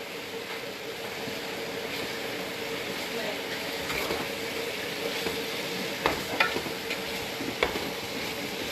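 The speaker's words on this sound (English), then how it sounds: "Steaming away." A pot of chicken handi curry sizzles and steams with a steady frying hiss, broken by a few louder crackles and stirring clatters toward the end, fairly close.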